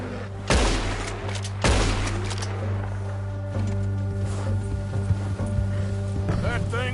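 Two sharp gunshots ring out about a second apart from a rifle in the Western game Red Dead Redemption 2 during a bear encounter, loud over game music and ambience, with voices talking around them.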